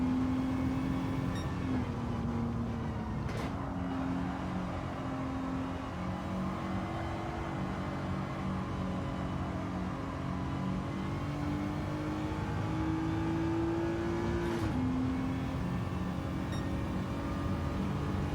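A Lancia Delta Integrale engine in Gran Turismo 7 revs at a steady hum for the whole stretch, its pitch rising and dipping through gear changes with a couple of brief clicks along the way.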